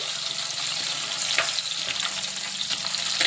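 Ginger and shallots sautéing in a pan for a homestyle fish curry, a moderate continuous sizzle with light stirring clinks and scrapes, no speech.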